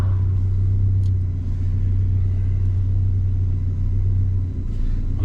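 A turbocharged Mazda MX-5 Miata idles at a track day, a steady, deep, close engine rumble holding constant throughout, with a couple of faint clicks in the background.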